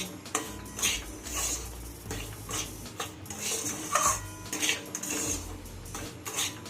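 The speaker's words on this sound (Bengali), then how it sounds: "গ্যাসের হিট লোতে রেখে অনবরত নাড়তে হবে এমনভাবে ভাজতে হবে সুজি" Semolina is stirred and dry-roasted in a pan on low heat, producing repeated close scraping and light metallic clinks of a spoon against the pan in an uneven rhythm. There is no speech.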